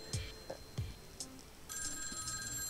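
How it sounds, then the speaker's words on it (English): A telephone rings in a shrill tone, a faint electronic trill that starts partway through, after a few soft knocks and thumps, with no talk. "The phone was ringing in its usual shrill tone."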